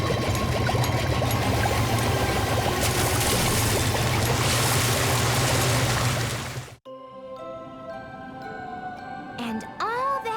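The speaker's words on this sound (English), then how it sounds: "the fountain sprayed and sprayed" A cartoon water fountain sprays in a steady, dense rush that fills the first several seconds, then cuts off abruptly, leaving quieter tones and soft effects.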